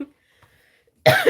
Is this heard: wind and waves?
no